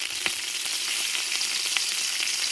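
Mint and curry leaves fry in hot oil with a steady close hiss, broken by occasional crackles and light pops, and no voices.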